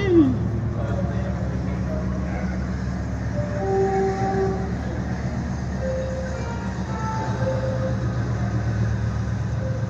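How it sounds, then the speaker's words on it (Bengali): Steady low rumble and rhythmic clatter of a train rolling by up close, with a few brief horn tones. "ট্রেনটা আসছে মনে তো হচ্ছে, ট্রেনটা আসছে"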